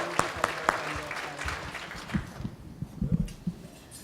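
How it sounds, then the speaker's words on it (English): Audience applause for elders at an Indigenous diabetes prevention conference opening, with scattered distinct claps that thin out, mixed with cheering and voices over the fading clapping. "Elders never get a round of applause."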